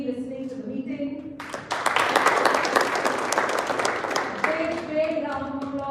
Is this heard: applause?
yes